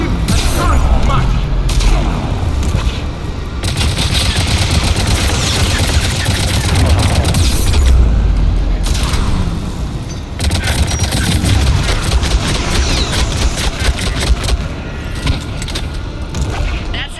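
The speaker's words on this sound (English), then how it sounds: "That's it for the missiles. Switching to the gun." Missile blasts and heavy gunfire from a gunship in Mass Effect pound without letup for about seventeen seconds, with deep booms under rapid, loud bursts of shots that briefly drop out twice.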